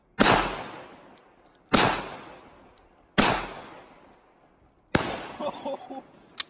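Four loud, close gunshots from a SIG Sauer P320 Compact .45 pistol, spaced roughly a second and a half apart, each with a ringing outdoor decay; faint clatter and movement follow the last shot.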